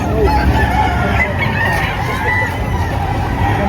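Roosters crow repeatedly at a busy chicken market, overlapping calls and clucking over a dense crowd murmur, loud and close throughout.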